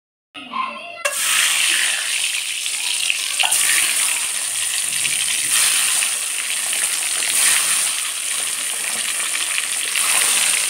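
Eggs fry in hot white oil, a loud, steady close-up sizzle and crackle that bursts in abruptly after a brief quiet moment and keeps going without pause.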